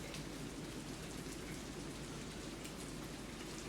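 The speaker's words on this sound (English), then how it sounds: "you do hear the rain" Soft, steady rain hisses continuously at a low level, a fine even wash of drops with no breaks or voices.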